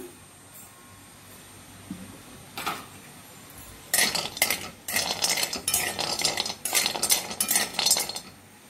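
Turmeric roots roasting with a little oil in a pan, a few scattered clinks, then repeated loud rattling scrapes and tosses against the metal through the second half, no voices.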